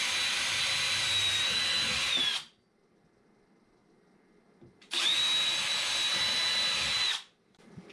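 A power drill bores a pilot hole in a kitchen drawer for an IKEA handle, in two steady high-pitched whirring bursts of about two seconds each, separated by a quiet pause.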